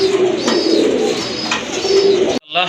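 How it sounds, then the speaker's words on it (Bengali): Pigeons coo repeatedly up close at a pigeon sale, low throaty calls rolling one after another against a busy background. "আরেক জোড়া কবুতর দেখতে পাচ্ছেন খুবই চমৎকার কালারফুল কোয়ালিটি ফুল কবুতর"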